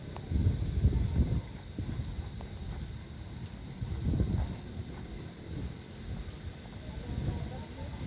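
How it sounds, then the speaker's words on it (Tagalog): Gusts of wind on a mountain at night buffet the microphone in low rumbling surges that rise and fall every few seconds over a faint steady hiss. "At mahangin pa."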